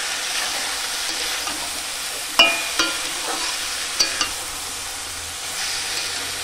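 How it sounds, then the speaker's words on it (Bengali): Chili and turmeric powder frying in oil give a close, constant sizzle, broken by a few sharp scraping clacks of stirring. No one speaks. "একটু ঝাল লঙ্কার গুঁড়ো আর 1 চামচ হলুদ গুঁড়ো। আর একটু ভালো করে কষিয়ে নেব।"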